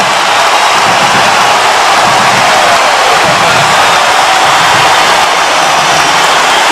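Thunderous, unbroken crowd noise fills the American Airlines Center as Mavericks fans go wild late in a 2011 Western Conference semifinal playoff game, a loud wall of screaming and cheering with no pause throughout.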